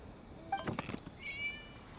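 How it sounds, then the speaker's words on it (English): A cat gives a couple of short meows, a quiet, close call followed by a thinner, higher, drawn-out mew against an otherwise hushed background. "It was just a cat."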